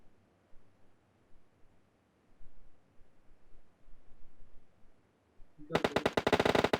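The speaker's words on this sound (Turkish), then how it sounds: "Sağ taraftan vuruyor." Gunfire in the mobile battle royale game PUBG Mobile on the Livik map, erupting late as a loud, rapid automatic burst of many close shots after a stretch of quiet, low rustling.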